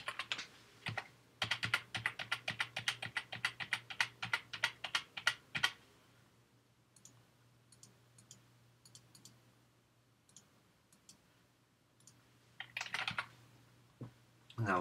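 Credit card details being typed on a computer keyboard: a fast run of crisp keystrokes for several seconds, then sparse scattered clicks and a brief second flurry, close and clear over a low steady hum.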